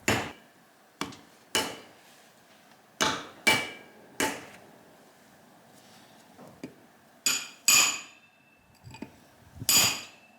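Repeated hammer blows on the front axle bearing of a Kubota M4900 tractor, about nine sharp metallic strikes in irregular bursts, loud and close with brief ringing between hits and no talk.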